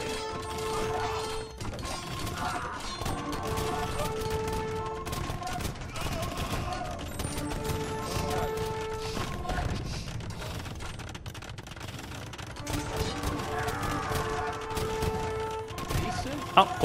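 Hand cannoneers fire volleys in an Age of Empires II battle between Goths and Lithuanians. Dense crackling gunfire is mixed with clanking melee combat, and a commentator talks over it throughout.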